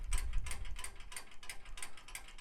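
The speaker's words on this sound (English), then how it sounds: "if you come back to the britching end and just give it a shake" Metal fittings on a tandem pairs harness britching rattle and clink as the harness is shaken by hand, a close, busy jangling in quick bursts lasting a couple of seconds.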